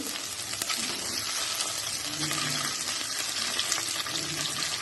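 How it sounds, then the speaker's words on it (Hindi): Boiled eggs fry in a pan of curry masala with turmeric for aloo anday ka saalan, a dense, steady, close sizzle lasting throughout, with faint clinks of stirring and no talking. "और इसमें हम बॉईल किए हुए 6 अंडे ऐड कर देंगे।"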